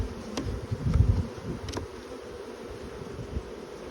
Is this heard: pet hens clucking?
no